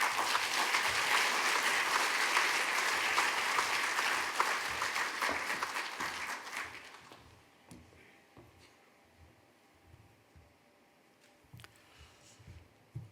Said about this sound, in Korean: 우리 나오실 때 큰 박수로 환영하며 맞이하겠습니다